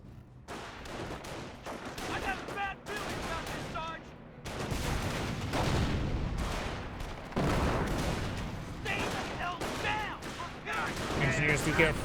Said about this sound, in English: Another incendiary trap has been detonated.